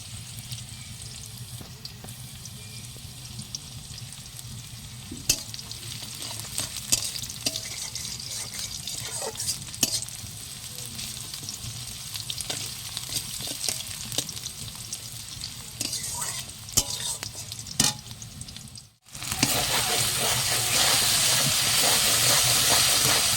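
Spice masala frying for chicken kosha on a home stove, a sustained sizzle and crackle with scattered pops and utensil scrapes, cutting out briefly before a louder, denser hiss resumes.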